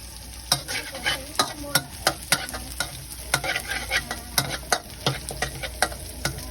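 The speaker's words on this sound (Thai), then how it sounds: "เราคั่วให้หอมนะครับ คั่วพริกให้หอม" Dry chilies being roasted in a pan for spicy stir-fried holy basil, a spatula scraping and tossing in a steady rhythm of loud close clacks over a light sizzle.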